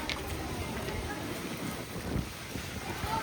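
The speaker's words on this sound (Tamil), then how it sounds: "காத்தடிக்குது, பயங்கர காத்து." Strong wind gusts roar and buffet outdoors in a constant broadband rush, with faint voices underneath.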